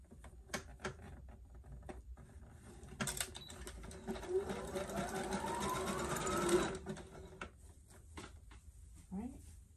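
A sewing machine stitches a tulle prom gown in short bursts of a few inches, a close mechanical patter that rises in a sustained run mid-way, with a person talking over it.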